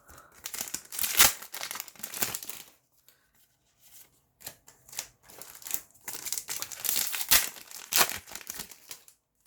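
Yu-Gi-Oh Eternity Code booster pack wrappers crinkle and crumple in close bursts, loud crackling clusters separated by a brief quiet gap, with no speech.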